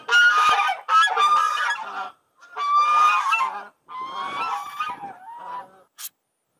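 Geese honking in extreme winter cold in northern Minnesota, with loud, close bursts of calling that come in several overlapping volleys separated by short pauses, followed by one brief final honk.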